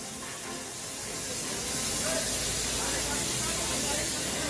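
Fire crews spray water on a steel plant fire, a loud, continuous broadband hiss and rush of spray that swells slightly and holds steady.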